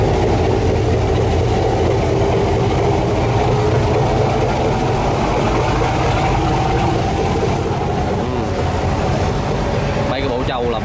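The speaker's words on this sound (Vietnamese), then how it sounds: "Bây giờ mình vô hầm máy mình coi nữa. Mình thấy đang nổ máy." Diesel engine of a fishing boat idling loudly in its engine room, a steady heavy low rumble with mechanical clatter that fills the space without pause, with faint voices underneath.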